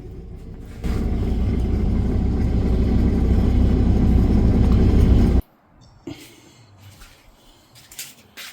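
A motorhome's onboard Onan 2500 generator engine drones loudly and steadily at close range, a low rumbling hum that cuts off abruptly, leaving faint background noise.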